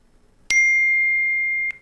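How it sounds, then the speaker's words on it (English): A single bright bell ding strikes sharply and rings as a clean sustained tone for over a second, ending in an abrupt glitchy click, alone against near silence. "This is just a bell, but it's got weird frame artifacts."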